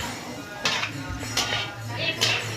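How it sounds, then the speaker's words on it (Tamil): Idlis being tossed with cooked tomato in a pan, giving a few distinct scraping, clinking strokes of a spoon against metal spaced about a second apart, moderately close, with no talking. "தக்காளி நல்லா வெந்ததுக்கப்புறம் இட்லியெல்லாம் போட்டு நல்லா கலக்கி விட்டுருங்க."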